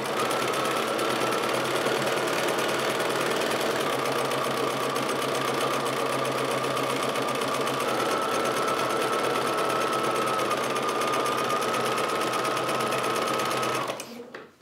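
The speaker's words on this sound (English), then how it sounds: "I sew along that diagonal edge with a 1/4 inch seam" A sewing machine stitches fabric along a diagonal edge with a quarter-inch seam, a loud continuous mechanical whir and rattle running steadily close up for about fourteen seconds before stopping abruptly.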